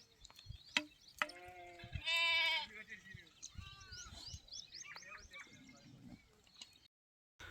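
Sheep on a small sheep farm bleat in several wavering calls, close and clear, with a loud sustained bleat in the middle, mixed with someone speaking and faint bird chirps.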